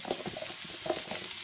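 Zucchini for a minced-meat dish fries in a spoonful of oil on the stove, making a close, busy sizzle broken by soft stirring scrapes, with no talking.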